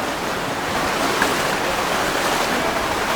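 Floodwaters of a river in Curepe, Trinidad, rushing hard enough to burst over its banks, a steady, broad roaring wash of water that fills the scene continuously and loudly with no pauses.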